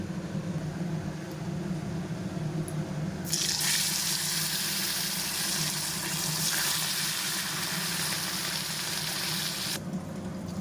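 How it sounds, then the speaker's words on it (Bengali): Fish frying in oil in a pan on a stove makes a continuous close hiss of sizzling fat that grows brighter and louder for several seconds mid-way before easing back, with no voices. "ওই জন্য আমি মাছটা ভেজে নিই এটাতে"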